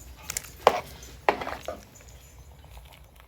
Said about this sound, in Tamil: எல்லாமே ஓரளவுக்கு நல்லா மிக்ஸ் ஆகிற அளவுக்கு கிளறி விட்றலாம்